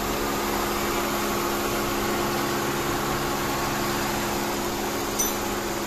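A Mitsubishi Galant engine idles steadily after a ring gear and starter drive replacement, a constant low mechanical hum with no talk over it.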